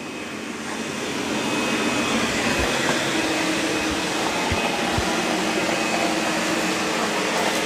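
A Roborock S8 MaxV Ultra robot vacuum and mop runs steadily at close range, a continuous whirring motor drone with faint bumps as it passes over muddy paw prints and carpet.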